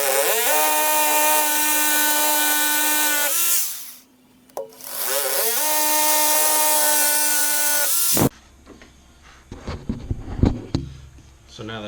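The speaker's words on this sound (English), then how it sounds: "I've got my concrete bit and my hammer drill" Hammer drill with a concrete bit boring into a concrete floor: two loud sustained whining bursts of about four seconds each, split by a short pause, followed by scraping and knocking clatter.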